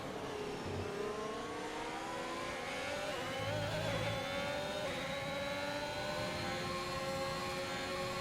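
A Ferrari Formula 1 car engine in the F1 2021 racing game drones steadily at moderate level, its pitch gliding up and down through gear changes without any talk.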